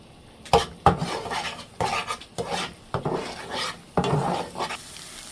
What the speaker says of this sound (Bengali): ডিমগুলো আমি এখন একটু ভেজে নেব